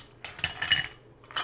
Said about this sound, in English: I'm just going to drop a little bit of ice in the mixing glass